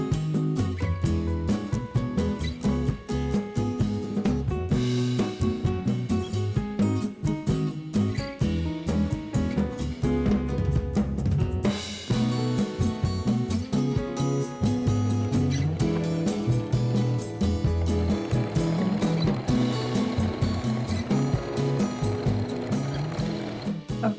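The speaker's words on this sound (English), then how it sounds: "And then we'll sew the whole thing together." A sewing machine joins stretch-fabric shirt pieces in one continuous run, its needle hammering fast and steady with a loud mechanical chatter and no pauses.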